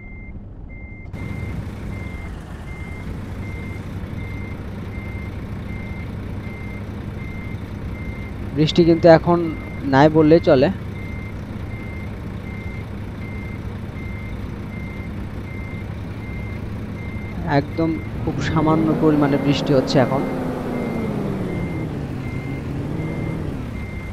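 A truck's reversing alarm beeps steadily throughout while parking in Euro Truck Simulator 2 on a Bangladesh map in light rain, a low engine drone beneath, with someone speaking over it and a few short air-brake-like bursts.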